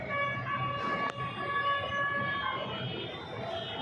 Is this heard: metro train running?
yes